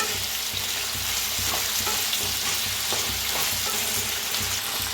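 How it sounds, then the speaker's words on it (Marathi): Potatoes sizzle and crackle steadily in hot oil, a bright, continuous frying hiss with occasional soft stirring scrapes. "आपण पहिलं बटाटो भाजून घेऊया"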